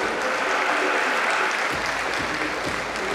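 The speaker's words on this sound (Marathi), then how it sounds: "यांच्यासाठी टाळ्या सुरू राहायला पाहिजे." An awards-ceremony audience keeps up loud, continuous applause as category runners-up walk onto the stage, a dense even wall of clapping from a large crowd that never lets up.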